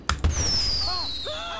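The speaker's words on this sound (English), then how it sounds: "It's just fireworks, people." Fireworks in GTA 5 Online, two sharp bursts followed by whistling streaks that trail off, with faint voices in the background.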